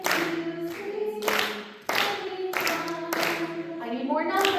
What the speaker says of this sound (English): Only clap on the numbers.